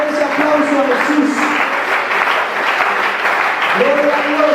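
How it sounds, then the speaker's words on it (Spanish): A church congregation applauds loudly and continuously during a worship service, a dense wash of clapping heard close, with a sustained voice or tones of music running underneath throughout. "Denle fuerte ese aplauso a Jesús."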